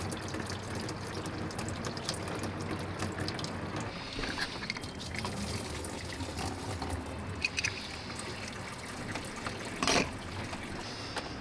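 Coolant from the radiator drain plug of a 2014 Dodge Charger pours into a drain pan, a steady close gushing and trickling stream that runs throughout, with a brief louder splash near the end.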